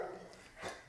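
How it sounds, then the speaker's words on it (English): A dog gives a short, faint bark with a slight whimper at a distance, brief and quiet against a low background. "That's my dog."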